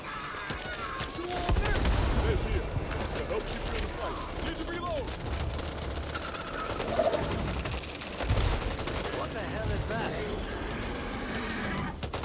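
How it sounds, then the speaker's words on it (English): Firecrackers burst in the Back 4 Blood video game, a dense crackling barrage of sharp pops scattered over about twelve seconds under a busy game mix of voices, music and ambience. "Firecrackers here."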